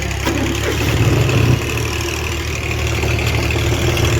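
A tractor engine runs at a steady, loud, low rumble close by, idling without much change.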